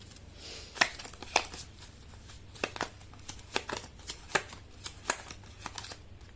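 Tarot cards are shuffled and drawn by hand, giving a string of crisp, close paper snaps and riffles at uneven intervals over a faint low hum.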